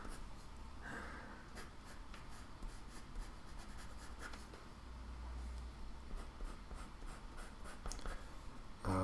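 A pen or pencil drawing on journal paper gives soft, continuous scratching with intermittent strokes over a low rumble, quiet and close, with no talking.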